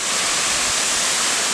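Capayas Falls waterfall on Biliran Island, a loud, close, steady rushing roar of falling water with no pauses.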